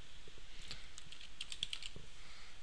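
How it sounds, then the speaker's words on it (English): Computer keyboard keys tapped in a quick, light run of clicks while a password is typed on a Linux machine, close and soft over a low background hiss. "type in your password for the MySQL root user"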